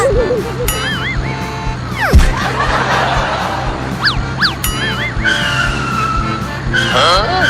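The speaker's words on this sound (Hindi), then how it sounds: "तू तो टेम्पो को बहुत तेज चला रहा है" A cartoon tempo auto-rickshaw driven fast and swerving, with tire-skid squeals, whooshing swoops and engine noise, while animated voices talk and laugh over it.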